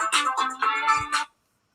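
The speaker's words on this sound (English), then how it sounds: "I've got a groovy ringtone. Bit disco." A disco-style mobile phone ringtone plays a bright, bouncy electronic melody in short repeating bursts, loud and close, then cuts off abruptly into silence.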